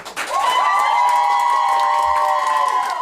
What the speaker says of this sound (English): teachers dressed in pink lined the hall for a surprise clap out